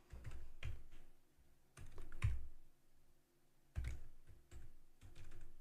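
Soft, quick keystrokes on a computer keyboard, clustered taps in short bursts with brief pauses, close and fairly quiet over faint background hum.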